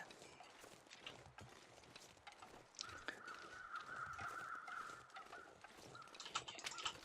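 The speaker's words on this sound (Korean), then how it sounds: "왼쪽 멀리서 까마귀 소리 들리는데" A crow caws faintly in the far distance in the survival game The Long Dark, a thin drawn-out call over a quiet windy outdoor ambience.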